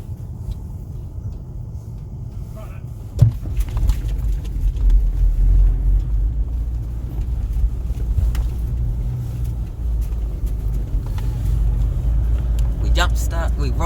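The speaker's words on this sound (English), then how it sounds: "We roll started the car." A car engine runs steadily after being roll-started on a flat battery, a continuous low rumble close by, with a sharp knock early on and faint voices at times.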